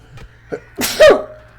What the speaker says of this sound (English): That was a satisfying sneeze.